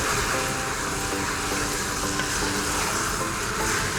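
A spicy Korean chicken soup is stirred in a pot as ingredients are mixed through, giving a steady, close sizzling and bubbling hiss with soft stirring noise running throughout.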